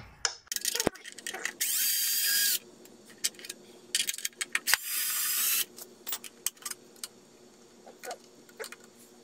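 Fasteners coming off a Razor E200 electric scooter: close, loud bursts of rapid ratcheting or power-driver whirring, each lasting about a second, among scattered clicks and taps of metal parts being handled.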